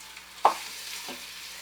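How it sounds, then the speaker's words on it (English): Beef sizzling in hot olive oil inside an Instant Pot as it is stirred, a soft steady hiss with two brief scraping clatters. "Here it's sizzling."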